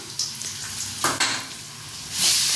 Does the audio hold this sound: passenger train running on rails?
no